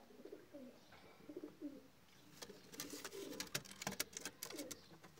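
Young pigeons coo softly in a loft, with low repeated burbling calls and scattered wing flutters and light rustling nearby, fairly faint and with no talk.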